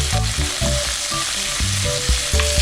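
Onion sautéing in a pan gives a loud, close sizzle that runs continuously beneath a repeating tonal hum, with no speech.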